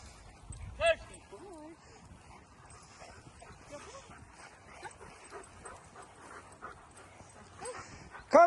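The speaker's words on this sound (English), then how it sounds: "look at him there with another reactive dog off lead" A reactive dog off lead at a residential training session gives short yips, whimpers and a couple of sharp barks, close by and intermittent, while a person talks throughout.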